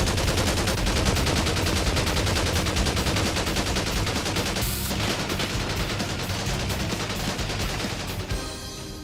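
Rapid automatic gunfire in the video game GTA 5, a dense continuous burst of shots that rattles loudly for several seconds before tapering off near the end, with no voices.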